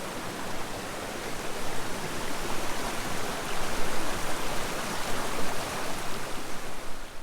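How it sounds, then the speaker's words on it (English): Stream water at a hiking crossing near Buena Vista, Colorado, a loud, continuous broadband rush of flowing water that stays close and steady throughout with no voices. "Another sweet water crossing."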